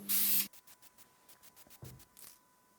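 A short loud burst of wrinkle paint spraying onto a Toyota 4A-GE engine part hisses, followed by quieter clicks and another faint spray puff.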